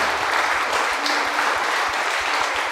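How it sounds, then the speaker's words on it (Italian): Church congregation applauding at a Sunday service, a steady dense wash of clapping that holds evenly throughout with no break. "Fai un applauso a colui che ti ha salvato, a Gesù Cristo nostro Signore"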